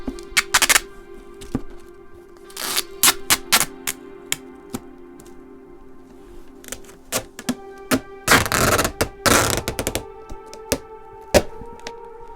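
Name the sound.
packing tape being applied all around a box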